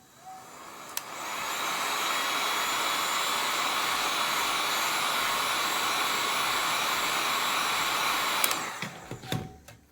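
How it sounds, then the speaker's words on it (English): A heat gun warming drips of hardened resin roars steadily and close for about eight seconds, a constant blowing hiss that starts with a click and cuts off near the end, followed by a few light taps. "you will need to warm the heat gun up a little bit"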